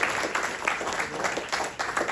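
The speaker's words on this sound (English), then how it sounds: "Rebecca, give him a round of applause" Applause at a sound-and-vision store gala launch event for a speaker from M&K Sound, steady dense clapping from a gathered crowd filling the short stretch without a break.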